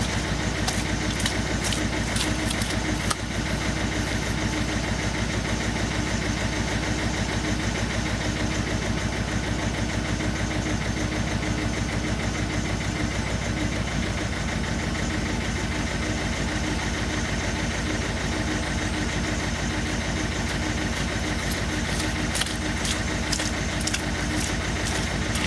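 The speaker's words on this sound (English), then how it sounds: "Now, I'm going to start the car up now and see how it smokes." A Ford Fusion 1.4 TDCi diesel engine idles roughly with a steady, loud, uneven chug that continues for the whole stretch, with no talking over it.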